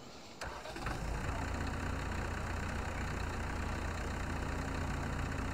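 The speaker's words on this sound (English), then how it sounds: "Good sounding tractor." Tractor engine in Farming Simulator 17 cranking and catching with a sharp start, then settling into a steady, low, even idle that continues alone.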